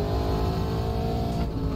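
Super late model race car engine droning and pulling hard under throttle on the Tsukuba Circuit road course in iRacing, a steady loud buzzing roar with a slight dip near the end.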